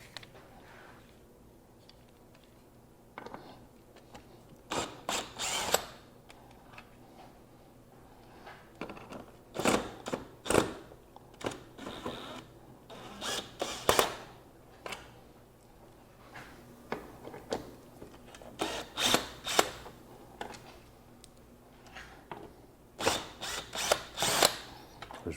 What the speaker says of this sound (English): and then take our screwdriver